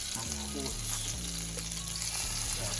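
Vegan French toast sizzles and fries steadily in a hot pan, a continuous close crackle with no talking.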